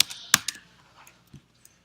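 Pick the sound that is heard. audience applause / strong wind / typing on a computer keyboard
typing on a computer keyboard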